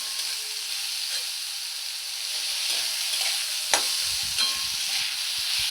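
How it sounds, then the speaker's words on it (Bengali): Eggplant slices frying in oil for nim begun (neem leaves with eggplant), a steady broadband sizzle throughout with a couple of sharper spatters and stirring clicks near 3.7 and 4.4 seconds, close and moderately loud, no talking. "দেখুন বেগুনটা ওই তেলেই দেখুন কি সুন্দর ভাজা হয়ে গেছে"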